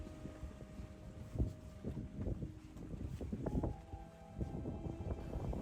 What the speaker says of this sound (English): today was pretty windy, very windy in fact